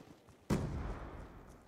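A single AN-94 rifle shot in Black Ops 2 multiplayer, a sharp sudden crack followed by a long rumbling decay, loud and close with no talk over it.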